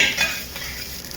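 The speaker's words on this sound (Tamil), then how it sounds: "உதிரி உதிரியாக வேக வச்ச நீல பாஸ்மதி ரைஸை சேர்க்குறோம். கிண்டி விடுறோம்." Chicken and boiled basmati rice are stirred in a pan for fried rice, with a short scraping, sizzling burst and a soft utensil clink, then a quieter continuing hiss.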